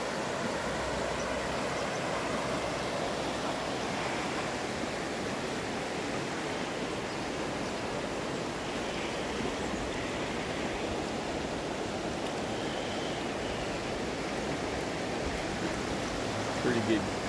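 The Poudre River in Colorado, about 20 miles up the canyon, rushes with a continuous broadband wash of flowing current, steady and fairly loud throughout.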